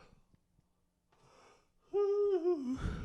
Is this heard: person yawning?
yes